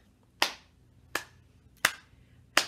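During a children's pajama storytime, four crisp, sharp snaps or claps ring out close by at an even, unhurried pace, each one isolated against near silence.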